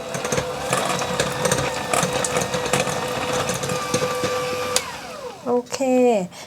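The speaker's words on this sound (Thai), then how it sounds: "ก็ตีให้เนยเป็นเนื้อครีมค่ะ" An electric mixer beating softened unsalted butter into a cream for oatmeal cranberry cookies. It whirs steadily and close for about five seconds, then stops, and someone speaks briefly.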